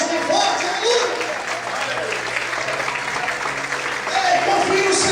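A church congregation applauds loudly and steadily throughout a worship service, with a voice continuing over the sustained clapping.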